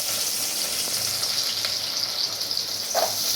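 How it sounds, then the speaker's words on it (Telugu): Onions and green chillies frying in hot oil give a steady, close sizzle with a hiss that holds for the whole stretch, and a brief sharper crackle shows up near the end. "కొంచెం ఆయిల్ వేసుకొని బాగా హీట్ ఆనియన్ మిర్చి వేసుకోవాలి ఫస్ట్"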